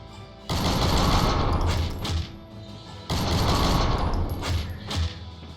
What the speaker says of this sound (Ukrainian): Да, головне не перегрівати цей кулемет.